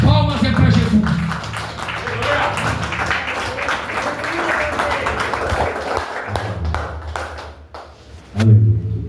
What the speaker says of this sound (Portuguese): e as palmas é para Jesus